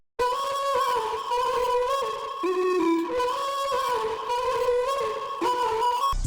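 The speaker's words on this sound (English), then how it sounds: "I added a vocal from Arcade with a Camel Crusher on the mixer channel to heavily distort the sound." A vocal sample in a trap beat, heavily distorted with Camel Crusher and processed with Portal glitching and reverb, sounding gritty and warbling over a continuous melodic line.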